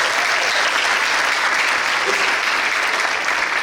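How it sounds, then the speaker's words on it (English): A crowd at an education keynote applauds the presenters, a loud, dense, even roar of many clapping hands sustained throughout with no pauses. "give the presenters a round of applause"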